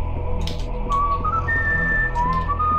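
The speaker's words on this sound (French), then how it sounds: "Quand il sifflait, ça ressemblait à Indiana Jones." A character in the video game Serious Sam whistles a tune that resembles the Indiana Jones theme, with clear rising and falling notes over a low game-ambience hum.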